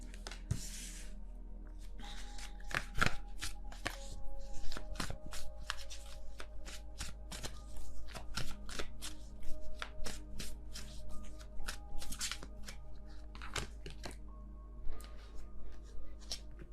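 Tarot cards being shuffled by hand, a steady run of crisp riffling and slapping card sounds up close, alone with no talk.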